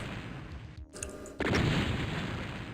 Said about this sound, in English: it's much better against those guys if I use the chain gun